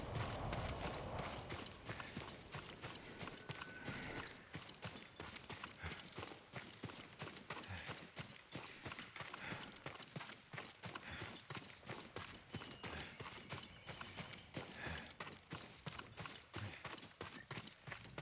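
Horse hooves clip-clop in quick, steady rhythm through the video game Ghost of Tsushima, a continuous trotting patter of hoofbeats that holds at an even level from start to finish with no voices.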